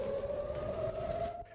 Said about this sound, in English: The sirens and the fear.